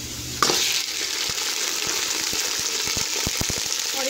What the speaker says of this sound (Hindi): प्याज फ्राई हो गई है, अब मैं इसके अंदर चिकन ऐड कर दूँगी